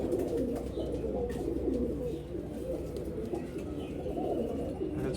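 Pigeons coo softly and repeatedly in low, rolling murmurs, several birds overlapping close by against a quiet background.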